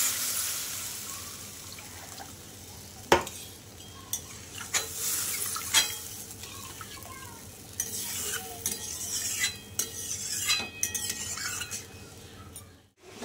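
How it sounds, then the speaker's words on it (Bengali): Water poured into a pan of frying mustard-based fish curry spices, a steady sizzle and bubbling hiss with occasional spoon scrapes and clinks against the pan, close and continuous with no talking. "আমি এবার জল দিয়ে দিচ্ছি"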